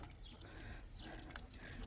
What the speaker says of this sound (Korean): 두꺼비 입에서